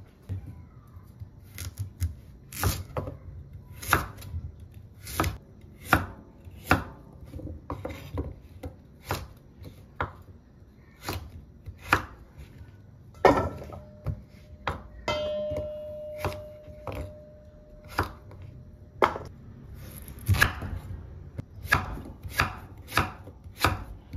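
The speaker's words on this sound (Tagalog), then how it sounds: "Tapos na natin maghiwa." Chicken being chopped for caldereta on a cutting board, a long series of close, sharp knife thuds at an uneven rhythm, some in quick bursts and others spaced apart, with no voices.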